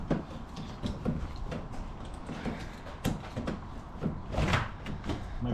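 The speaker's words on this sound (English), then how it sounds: "That door hasn't been open in a while, has it?" An old car door, on a rare Ford T190 Turbo left forgotten for 13 years, is unlocked and opened with a few clunks and rattles against steady background noise.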